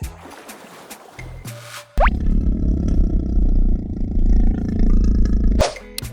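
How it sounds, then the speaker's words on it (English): A leopard gives one loud, close, rough roar that holds for several seconds and then stops abruptly, with short knocks and thuds just before it. "It's the leopard."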